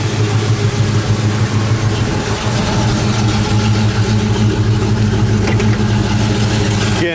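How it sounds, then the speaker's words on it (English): A numbers-matching 1970 429 Cobra sits idling, its engine giving a steady, loud, low rumble with an even lope that holds unchanged throughout, with no voices over it. "Car sits here and idles beautifully."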